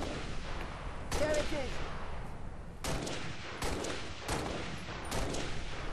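Gunfire from the Halo: Reach video game as skirmishers are picked off, with several sharp shot bursts at irregular intervals over steady game ambience and rumble.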